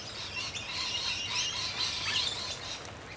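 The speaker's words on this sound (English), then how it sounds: "One of the things that these birds do is they do little communication tricks with their beaks, especially the noisy miners." Noisy miner birds call in a steady, busy chatter of high chirps and squeaky notes at a bird sanctuary on a rainy day, continuous and fairly distant, with no voices.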